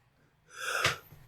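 A single quick sneeze, fairly soft and close, with a sharp breathy burst after a brief intake.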